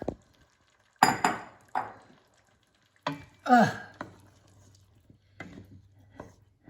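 Tomatoes tipped into a pan already cooking with parsley and basil, giving a few sharp clattering bursts and a louder stir-and-sizzle spell, then a low steady simmering hum with soft scrapes.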